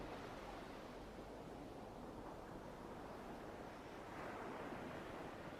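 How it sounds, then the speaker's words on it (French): Ocean waves roll in and wash up onto a sandy beach in a soft, continuous surf roar, quiet and distant, swelling slightly toward the end with no voices present. "Et d'autres vagues se forment, viennent se dérouler sur le sable et disparaissent."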